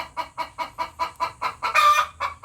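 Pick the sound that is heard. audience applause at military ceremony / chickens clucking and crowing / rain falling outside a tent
chickens clucking and crowing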